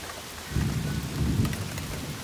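Rolling thunder rumbles low and heavy through a steady wash of heavy rain during a thunderstorm, swelling in two broad surges with no voices present.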